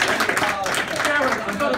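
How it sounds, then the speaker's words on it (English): Wedding guests clap in a dense burst of applause for the catering team during an evening reception at a hotel, with voices mixed in among the clapping. "Can we have a round of applause for Sam and her team"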